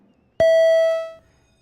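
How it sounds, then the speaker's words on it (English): A roll-call bell rings once in a state senate chamber during a floor session, a clear, loud ding that holds and fades over about a second, followed by quiet. "Madam Secretary, please ring the bells."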